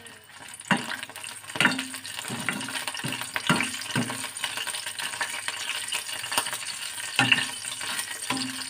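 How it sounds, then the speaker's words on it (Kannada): Four or five dried red chilies hit hot oil in a pan for a guava-leaf chutney, giving repeated short sizzling bursts and crackles over a low continuous fry, with quieter stretches between the louder pops. "ಎಣ್ಣೆ ಬಿಸಿ ಆಯಿತು, ಮೆಣಸು ಹಾಕ್ಕೊಳ್ತಿದ್ದೇನೆ."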